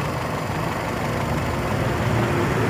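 A Toyota car engine idles after an octane selector adjustment, a steady, close, low rumble that holds even throughout, with no speech.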